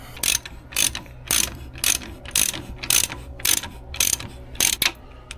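A ratchet tightening suspension spring compressors on a '95 Ford EF Fairmont, with about ten evenly spaced bursts of loud metallic clicking, close and steady.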